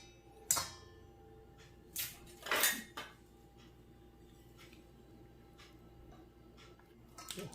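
Dog biscuit dough with peanut butter is mixed in a bowl: a few sharp clinks and scrapes of a utensil against the bowl early on, then quiet, faint ticking and a last clatter, no talking.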